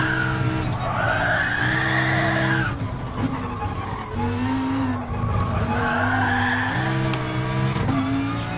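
Lamborghini race car tires squeal and skid on a track, long sustained screeches rising and falling over a steady engine drone, loud and close with no talk.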